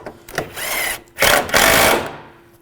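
A power tool drives radiator bolts on a 1998-2010 Volkswagen Beetle in two loud, close whirring bursts, each about half a second long, with a short gap and faint clicks around them.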